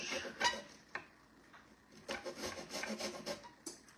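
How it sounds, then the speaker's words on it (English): A lime being zested on a grater, giving a series of close, uneven raspy rubbing strokes with brief pauses between bursts. "I'm going to do some lime zest."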